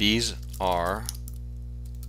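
Keys on a computer keyboard clatter in light, scattered taps while text is typed into an Excel 2007 spreadsheet, quiet and partly under a man's speech.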